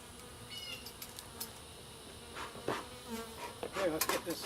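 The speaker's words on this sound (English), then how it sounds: "Bees are getting a little busy around me." Honeybees busy around an open beehive, with a close buzzing drone and individual bees passing near, rising in intensity toward the end.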